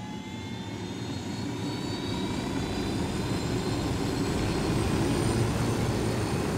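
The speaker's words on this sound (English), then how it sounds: "Let's take the chopper." A helicopter in the video game Tom Clancy's Ghost Recon Wildlands roars steadily as it flies, a dense, continuous engine and rotor drone with a faint rising whine layered on top, loud and unbroken throughout.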